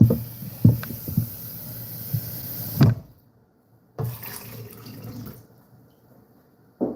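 Water poured into a blender holding cassava: a splashing, gurgling pour that stops abruptly, then a shorter second pour, with quiet handling noise at the end.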